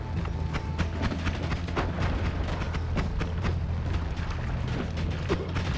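Heavy booming blasts from bombs in the Noita video game, a dense run of loud explosive thuds and crackling bursts with no speech.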